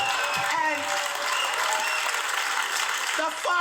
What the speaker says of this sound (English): Round of applause if you're sick of being a good fucking person all the fucking time.